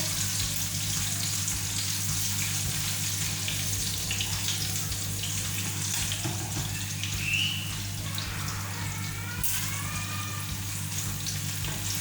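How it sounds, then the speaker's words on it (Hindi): Garlic fries in a pan with a loud, continuous sizzle and crackle that runs throughout, while a steady low hum sits underneath and a few faint clinks come through near the end. "ये देखिए गार्लिक जो है वो हमारा अच्छे से फ्राई हो रहा है।"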